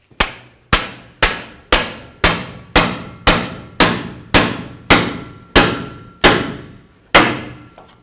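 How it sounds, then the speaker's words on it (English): Twelve sharp metallic hammer blows on a pickle fork driven into a car's tie rod joint to separate it, evenly spaced with ringing decay, close and loud with no talk. "Next, I'm going to use a pickle fork and a hammer, and I'm going to separate this joint"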